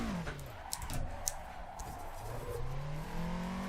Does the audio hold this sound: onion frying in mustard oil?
no